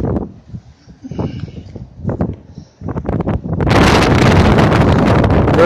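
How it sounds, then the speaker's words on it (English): Strong gusting wind on a rooftop buffets the microphone, building to a loud continuous roar in the second half, with faint speech-like sounds early on. "Very windy up here, so you might hear a lot of blowing."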